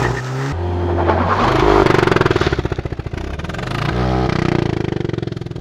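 Manual Cadillac CT4-V Blackwing in Forza Horizon 5 revving hard with traction control on, its engine note climbing and falling through several loud, rasping pulls with rapid stuttering bursts, close and continuous.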